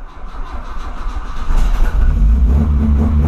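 An engine cranks and catches, then its rumble builds into a loud, deep revving that holds steady to the end.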